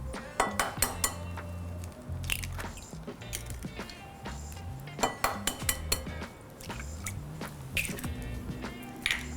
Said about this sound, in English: I'm going to whisk together our wet ingredients. So we've got 2 eggs.